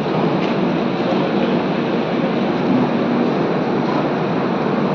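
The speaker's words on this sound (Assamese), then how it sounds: "ফাইনেলি আমাৰ ট্ৰেইন আহি গ'ল" A train at New Bongaigaon station in Assam makes a continuous, loud broadband rumble and roar. No talk can be heard over it.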